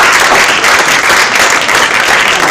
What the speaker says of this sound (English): A massive round of applause for 4 fantastic speakers.